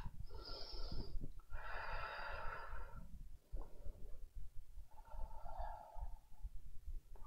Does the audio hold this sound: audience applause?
no